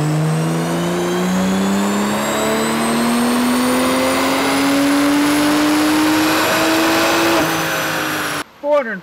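A 2025 BMW M340i with the Gen 3 B58 engine on a dyno, running a JB4 map 2 on 91 octane, revs hard in one long sustained pull with a steadily rising pitch, loud and close, then cuts off abruptly near the end.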